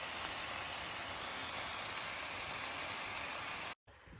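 Ground beef with garlic and salt and pepper browning in a pan, giving a loud, even hiss and sizzle that runs steadily and then cuts off abruptly.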